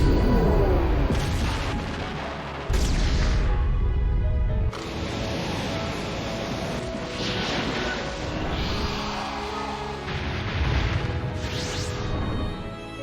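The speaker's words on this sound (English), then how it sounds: "Massive Rasengan Barrage!" A massive Rasengan Barrage special attack in the Naruto X Boruto Storm Connections video game, heard as loud, dense booming blasts and crashing impacts that keep going with no break for the whole stretch, sometimes cutting off and restarting abruptly.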